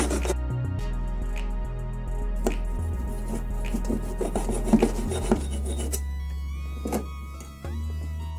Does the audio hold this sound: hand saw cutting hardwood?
yes